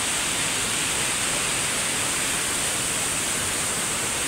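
A waterfall in Dumalinao, Zamboanga del Sur, giving a dense, steady rushing roar of falling water with no pauses, close and uniform throughout.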